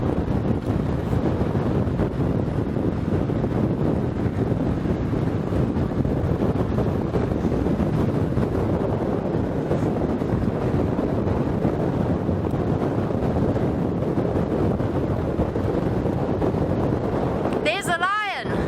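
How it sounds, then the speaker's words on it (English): Strong steady wind buffets the microphone on an open bush airstrip in an African safari reserve, a constant loud roar with a brief burst of voice at the very end. "I wonder what this wind is bringing."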